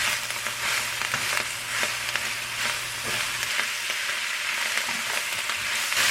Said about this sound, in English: You just want to saute these up.